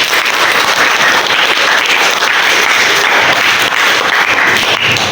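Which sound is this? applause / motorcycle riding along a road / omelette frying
applause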